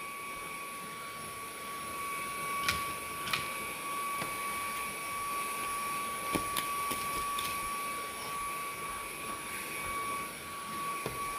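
An Easine by ILIFE M50 handheld vacuum cleaner runs on low power with a quiet, steady whine and a faint high tone, broken by a few soft clicks and taps as it picks up debris.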